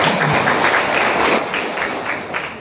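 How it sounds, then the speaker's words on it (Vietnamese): Congregation applause in a Catholic church during a wedding Mass in Bái Đô parish, a dense, steady wash of many hands clapping at close range, holding level throughout and thinning slightly toward the end. "Một tràng vỗ tay để hân hoan chào đón các cụ,"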